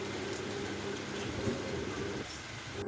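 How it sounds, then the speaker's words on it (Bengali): Heavy rain pouring down outdoors makes a steady, broad hiss with a low rumble underneath, unchanging for the whole short stretch and with no talk. "বাহিরে অনেক বৃষ্টি পড়ছে"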